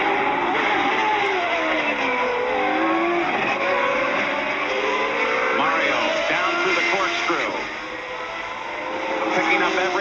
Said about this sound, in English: Let's listen, see how those engines are sounding.